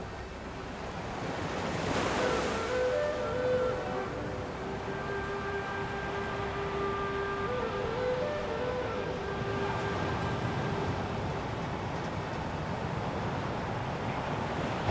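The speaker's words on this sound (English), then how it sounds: "you can hear the waves crashing" Pacific Ocean waves break on a northern beach in steady, rolling washes that swell louder and then ease, with wind buffeting the microphone and a faint tonal hum in the background; no voices.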